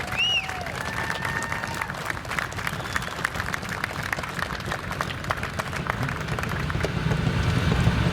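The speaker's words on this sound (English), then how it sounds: "let's give a round of applause for Ms. Laura Jones" Outdoor crowd applause at a veterans rally in Salem, Oregon, a steady mid-distance clapping that holds evenly throughout with faint open-air background noise.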